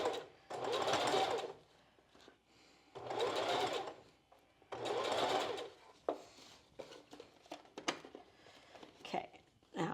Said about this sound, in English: we're just going to sew nice and slowly